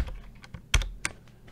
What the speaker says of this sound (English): all you have to do is type on the line that says type message here.